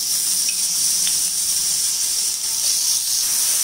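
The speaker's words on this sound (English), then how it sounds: "When the oil is hot, we will add 1 teaspoon of jeera. Let it splutter" Cumin seeds spluttering in hot oil in a pan while making baida roti, a steady loud hiss and sizzle with a few faint pops throughout.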